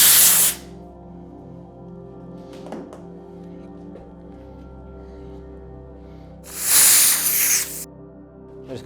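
High-pressure pump forcing air into a Zipp 303s road bike tyre, heard as a loud, sharp hissing spray at the start and again later, with a faint low hum and a few soft knocks in between.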